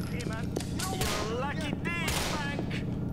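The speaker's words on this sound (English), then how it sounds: "Who's shooting me?" Gunshots crack out during a Grand Theft Auto IV shootout, scattered bursts mixed in with other game sounds and a voice talking over the action.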